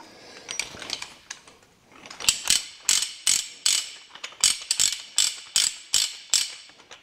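Ratchet tie-down strap being tightened on equipment, a run of about a dozen sharp, evenly spaced ratcheting clicks, close and loud, after a softer fumbling start.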